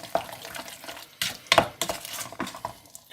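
Sugar being stirred into rhubarb in a pan, a spoon scraping and clinking against the metal in several sharp strokes with short pauses, close and fairly quiet with no voices.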